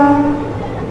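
A train running on a single line near Palakkad, a brief loud blast of horn tones fading over a rumbling carriage noise, with no talking.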